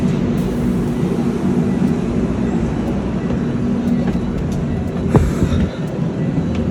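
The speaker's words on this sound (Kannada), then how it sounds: "ಈಗ ನಮ್ಮ ಟ್ರೈನ್ ಆಲ್ರೆಡಿ ಮೂವ್ ಆಗ್ತಾ ಇದೆ" A passenger train in motion gives off a steady low rumble and rolling clatter from inside the carriage, with a sustained hum and a brief clunk near the end, no speech heard.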